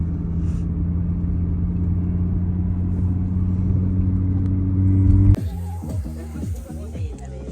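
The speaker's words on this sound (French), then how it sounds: "Le fameux endroit car spotting et accélération en tout genre." Car engines accelerating at the Nürburgring Nordschleife: a steady, loud low rumble of passing engines builds for about five seconds, then breaks into choppier revving and gear-change bursts, with background chatter throughout.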